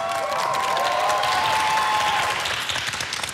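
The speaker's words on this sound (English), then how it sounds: "So let's give him a round of applause" A studio audience on a comedy show applauds briefly. The clapping is loud and dense, with a faint cheer or whistle in the first half, and it tapers off as it ends.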